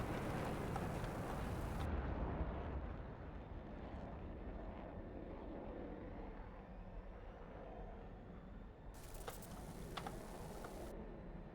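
F-15 fighter jets take off one by one in the DCS combat flight simulator during a tournament match, producing a steady, broad engine roar that holds throughout with no voices over it.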